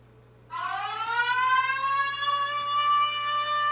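A loud rising warning siren from a test app on a Hotwav R6 Pro rugged tablet starts after a brief quiet moment and wails steadily, its pitch sweeping upward and holding.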